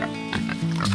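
Pigs grunt and squeal loudly up close, several calls overlapping in a short burst with no talk.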